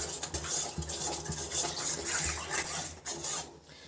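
Wheat flour payasam being stirred in a pan over a low flame: a steady, close scraping and swishing with soft repeated strokes, continuous throughout, without talk.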